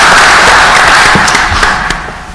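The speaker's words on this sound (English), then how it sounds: "Would everybody give her a round of applause?" A room at a joint legislative committee hearing breaks into applause for Stephanie, a short, loud wash of clapping that tapers off within a couple of seconds.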